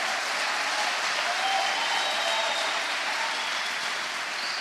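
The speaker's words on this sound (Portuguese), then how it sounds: "aplaude a Deus bem forte" A church congregation at a Belém conference applauds loudly, a dense, continuous roar of many hands clapping at an even level across the whole stretch.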